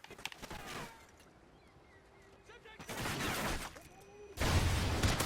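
Suppressed gunfire in Call of Duty Ghosts, a silenced weapon fired at a distant target, heard as muffled, fairly quiet shots with two broader bursts of noise in the latter half.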